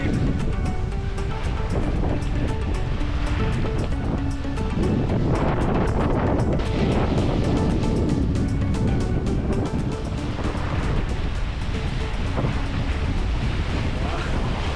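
Large ocean waves of around two to two and a half meters surge around a sailboat off the Colombian coast with a third reef in the mainsail, a loud continuous roar of water and rushing wind buffeting the microphone.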